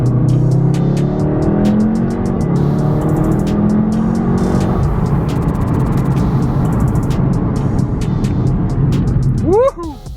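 A 2017 Volkswagen Golf R with a newly replaced front wheel bearing out for a drive: a steady, loud engine drone with shifting pitch throughout, ending in a few quick rising whoops.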